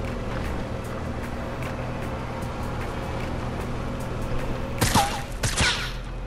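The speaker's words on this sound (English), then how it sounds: "someone's shooting at us" A brief fusillade of gunfire in a 50v50 match of a video game, a couple of sharp, fairly close volleys cutting through a steady rumbling vehicle engine drone.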